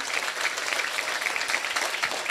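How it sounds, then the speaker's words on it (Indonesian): A crowd at a live religious gathering in Pekalongan claps for the event organizers, a moderate, even patter of applause heard somewhat distant and uninterrupted for a couple of seconds. "saya minta tepuk tangan dulu dong buat panitianya luar biasa."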